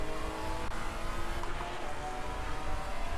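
A GT4 race car engine in the Assetto Corsa Competizione racing game drones steadily and loudly throughout, a continuous mechanical hum with engine harmonics and no talking.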